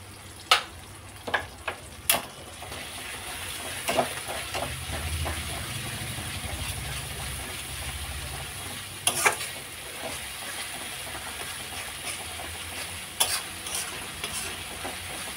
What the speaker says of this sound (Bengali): আদা রসুনটা ভালো করে লাল লাল করে ভাজা হয়ে গেছে